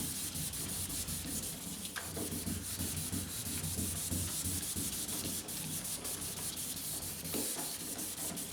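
Close, steady whir and rubbing of a machine buffing and cutting the paint on a 1977 Camaro Z28, continuous and fairly quiet with no talking.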